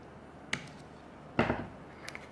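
A few short, crisp snips of scissors cutting string close by, separated by quiet pauses, with one louder cut in the middle.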